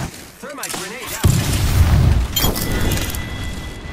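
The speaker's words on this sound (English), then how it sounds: "Thermite grenade out." Thermite grenade bursting in Apex Legends, a sudden loud boom followed by a sustained roaring, crackling burn with a sharp flare partway through; a voice speaks briefly just before the blast.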